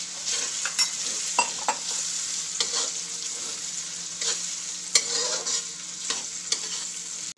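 Peas and val papdi beans fry in a pan with a steady, loud sizzling hiss, broken by repeated scraping and clacking as a utensil stirs them. Nobody speaks.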